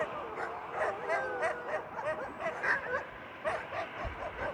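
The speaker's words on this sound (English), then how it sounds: "Lots of huskies." Many huskies at an Alaskan sled-dog kennel bark, yip and whine together in a busy, overlapping chorus of short, high calls. The sound carries at moderate distance and a person speaks briefly among them.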